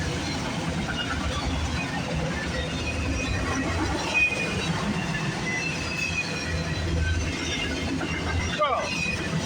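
A CPKC freight train hauling auto racks, with three engines, passes Milton GO station on a rainy early morning, producing a steady rumble of rolling wagons with faint wheel squeal, while someone talks over it.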